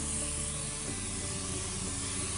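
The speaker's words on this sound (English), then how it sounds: "whilst I'm spraying, I'm keeping the bottle upright and I'm also 7 to 10 inches away from the body" Spray tan misted from an upright bottle held 7 to 10 inches from the body gives a steady, continuous airy hiss that runs unbroken and fairly close throughout, with no talking over it.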